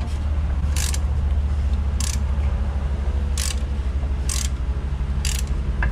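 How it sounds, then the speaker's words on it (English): A hand-operated manual impact wrench works on the front strut bolts of a Mercedes E350 during a shock replacement, giving five sharp clacking bursts at a steady rhythm over a constant low mechanical drone. "Good old classic manual impact wrench."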